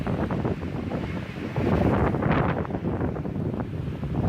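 Strong, gusty windstorm wind roars continuously into the microphone, swelling louder midway with broadband buffeting and rumble, no talking.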